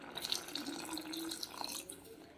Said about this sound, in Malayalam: പുളി ഇതിലേക്ക് ഒഴിച്ചു കൊടുക്കാം